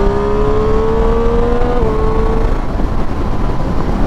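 A Triumph Street Triple 765 RS, a 2024 model, pulls hard under acceleration, its engine note rising steadily, then dipping briefly as it shifts, with strong wind noise throughout and no talking.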